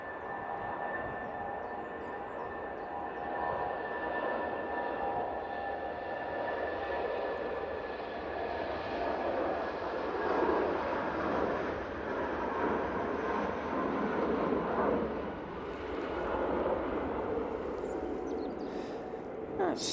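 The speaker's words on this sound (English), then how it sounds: "That's another shuttle going back to Heathrow." Airliner on a shuttle flight to Heathrow at a windy Manchester Airport, a steady broad jet roar that holds level throughout and swells slightly mid-way, heard from a distance with wind noise.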